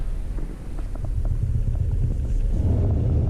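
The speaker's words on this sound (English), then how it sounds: "Now you can hear the air coming out." Heater air blowing from the vents inside a Tesla Model S with the heat turned up while defrosting, a steady low rumbling whoosh that grows slightly stronger toward the end, with no talking.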